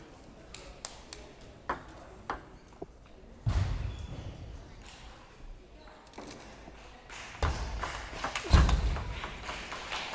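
Table tennis ball in a women's singles quarterfinal rally at the North American Championships, light ticking hits exchanged at a quick rhythm, with louder thuds and crowd noise between.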